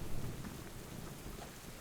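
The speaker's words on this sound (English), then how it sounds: "Looks like heavy rain to me." Heavy rain pours and thunder rumbles in the survival game Subsistence, a dense, even hiss of rainfall over a low rolling rumble. The storm is steady and fairly near, with no voices.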